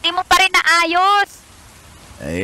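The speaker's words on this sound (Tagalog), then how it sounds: "Ang lakas na ng ulan" Heavy rain on a house roof during the rainy season, a steady broadband hiss that runs beneath a woman's speech and carries on alone afterward before another voice comes in.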